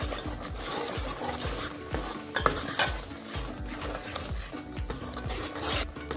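A spoon stirs and scrapes masala with hing, garam masala and turmeric in a pan for village-style chicken, giving steady rhythmic scraping strokes with a soft sizzle beneath and a couple of sharp metallic knocks partway through.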